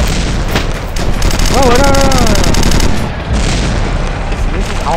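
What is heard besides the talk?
gunfire in the video game Red Crucible: Firestorm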